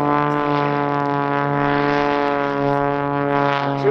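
An Xtreme Air XA41 aerobatic plane with a 315 hp five-cylinder horizontally opposed engine drones steadily overhead, a loud continuous buzzing engine note at an airshow with little change in pitch.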